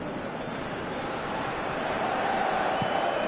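Football stadium crowd in the PES video game, a steady low roar of massed spectators that swells slightly toward the end, continuous and moderately loud.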